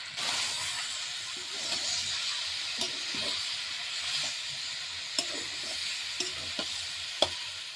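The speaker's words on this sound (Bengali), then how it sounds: "এবারে নেড়ে দিয়েছি, এবার একটু চাপা দিয়ে দেবো।" Malabar spinach cooks with pumpkin and shrimp in a pan under a steady hissing sizzle, with occasional soft scrapes and clinks of a spoon stirring, heard close up without voices.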